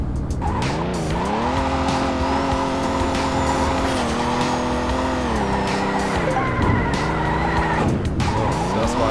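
A video-game car drifting sideways with a long, continuous tire squeal over a loud revving engine whose pitch swoops up and down, close and sustained throughout.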